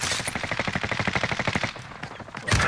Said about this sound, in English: we're getting shot by the crown now